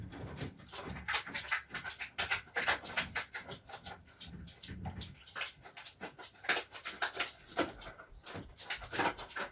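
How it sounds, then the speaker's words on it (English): Dogs playing nearby, with irregular panting, snuffling and scuffling bursts and small whimpers throughout, fairly close, no talking. "the doggies have to play because that's what doggies do."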